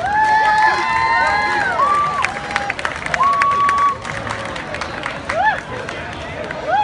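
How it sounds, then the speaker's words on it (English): Crowd claps, whistles and cheers as a Latin dance team takes the floor, a loud, sustained roar of applause with shrill whistles cutting through and voices mixed in. "give a big round of applause"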